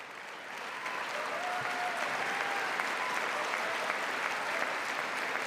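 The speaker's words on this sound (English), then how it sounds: "Clapping like seals for a SeaWorld trainer." Applause from the chamber audience at a State of the Union address swells in after a quiet start and holds as a dense, steady roar of clapping, fairly distant and even.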